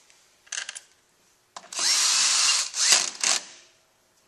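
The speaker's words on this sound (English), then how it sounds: "So we're just going to start a couple bolts" A power tool starting bolts on a Toyota A340 transmission valve body: a brief whirring burst, a pause, then a longer steady drill whine that dips and resumes in short pulses, close and with no talk.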